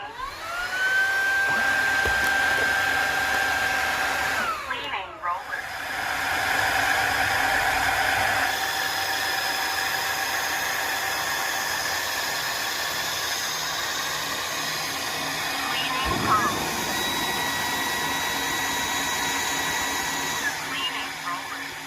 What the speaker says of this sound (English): Press clean to wash rollers.